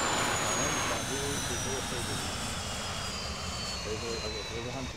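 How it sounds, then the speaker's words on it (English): A jet aircraft from a video game sits on a runway with its engine roaring steadily, a continuous loud whine and rumble that holds for several seconds. "Falcon's on the runway, ready to take off."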